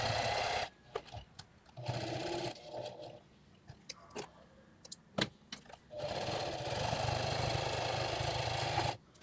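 A sewing machine stitches around the perimeter of a cell phone pouch about an eighth of an inch from the edge, running in a short burst, then a few clicks and pauses before a long, steady stitching run.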